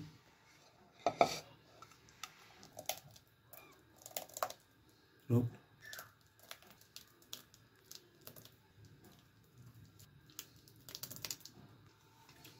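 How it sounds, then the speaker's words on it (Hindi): Homemade gajrela, a carrot halwa slow-cooked in milk, served from a pan into a dish, with a spoon scraping and clinking against metal in scattered, moderately loud knocks. "तो चलिए मैं इसको डिश आउट कर रहा हूँ, आप देखिए ज़रा"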